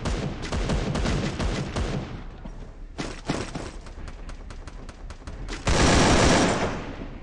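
Rapid bursts of gunfire in the Free Fire battle royale game, loud dense volleys of shots with a short pause, then a heavier continuous roar of fire at the end, no talking.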